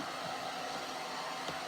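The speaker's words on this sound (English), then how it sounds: "this is just a heat gun" A heat gun blows steadily while drying paint on a Christmas ornament, a soft, even whoosh of air heard close up with no talking.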